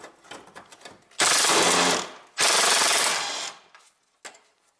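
A power tool unfastens 10 mm bolts on a Toyota Prius 1.5 radiator. Two loud, rattling bursts of about a second each sound up close, with faint clicks and handling noise before and after.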